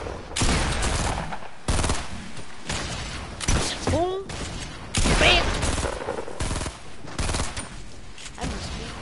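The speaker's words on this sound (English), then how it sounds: "You got people from all over shooting at you, dude." Gunfire coming from several directions in Fortnite, repeated bursts of shots and impacts in uneven clusters, loud and close, with people talking excitedly between and over the shooting.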